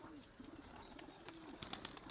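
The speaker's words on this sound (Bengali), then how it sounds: "এই যে একটা পায়রা, হ্যাঁ, ভালো পায়রা।" A Saharanpuri pigeon coos softly in a low, wavering rhythm, several short coos repeated close by over faint background noise.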